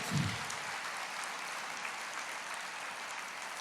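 A church congregation applauds the Lord in a steady, soft wash of clapping lasting a few seconds, even and somewhat distant, with a brief low thump at the start.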